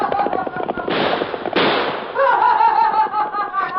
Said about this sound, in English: Gee, he shot at us.